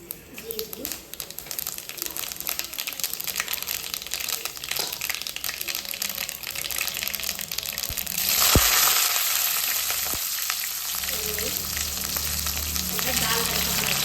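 Mustard seeds and cumin frying in hot oil for a tempering give a steady close crackle and sizzle, swelling into a louder hissing burst about two-thirds through as more goes into the pan, with a voice speaking over it.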